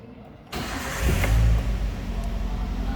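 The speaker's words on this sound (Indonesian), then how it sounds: "Selanjutnya kita akan menghidupkan mesin mobil." A car engine cranks and catches during a charging-system and alternator check, then settles into a steady low idle, close and fairly loud, with no talk.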